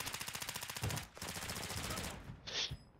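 Rapid automatic gunfire in a shooter video game, a rattling machine-gun burst followed by more sustained firing and a sharp higher-pitched effect near the end, loud and close.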